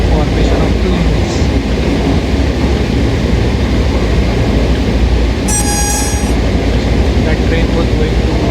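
A passenger train passing in the opposite direction in the Train Sim World 4 game, heard as a loud, continuous rumble and clatter of wheels on rails with a brief high squeal or horn-like tone midway.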